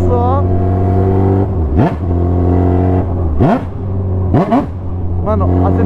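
A Honda CB1000 motorcycle fitted with a car tyre idles with a strong low hum, then revs up sharply three or four times in quick bursts on a straight, loud and close.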